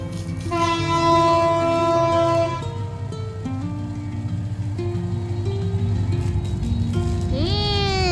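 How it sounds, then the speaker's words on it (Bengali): A train passes close by with a loud, sustained horn blast of layered tones over a steady rumble and rail clatter, and a second sharp horn sounds near the end. "দেখলাম যে একটা ট্রেন যাচ্ছে। ওয়েট করো, ট্রেন আসবে"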